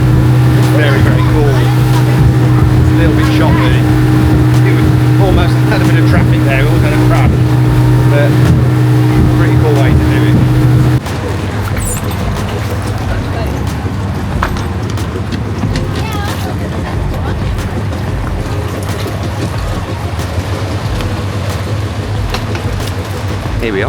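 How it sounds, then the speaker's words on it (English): A small boat crosses choppy open water to Gili Air, its steady engine drone running loud and continuous. Partway through the engine tone drops lower, with wind and water noise throughout and voices talking faintly. "It's a 10-minute journey on this boat over to Gili Air."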